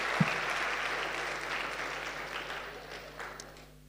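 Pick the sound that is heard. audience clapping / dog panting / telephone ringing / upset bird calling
audience clapping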